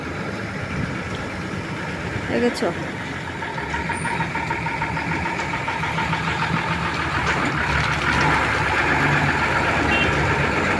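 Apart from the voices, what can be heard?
truck coming along a small village road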